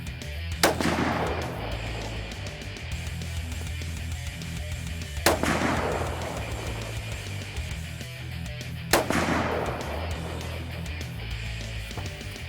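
Three loud, sharp rifle shots from a Ruger Precision Rifle being sighted in at roughly 25 to 50 yards, spaced a few seconds apart, each with a brief decaying report over steady low background hum.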